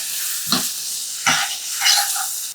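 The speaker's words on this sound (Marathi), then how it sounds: "आणि 5 ते 6 मिनिटं चांगलं हे परतून घ्यायचं." Tomato paste sautéing with golden fried onions for a chilli-garlic egg masala, a steady sizzle punctuated by three distinct stirring scrapes of a spatula in the pan, close and clear without talk.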